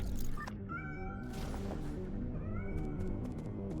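A cat in a video game meows twice, each a clear, rising, tonal cry about two seconds apart over a busy low game soundscape.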